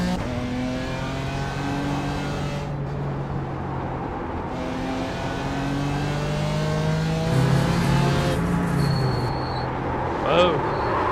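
A Toyota GR86 engine revs in the iRacing video game at the Nürburgring, climbing repeatedly through gears with rising and falling tones and shifts. It sounds loud and close, with a brief burst of extra noise near the end.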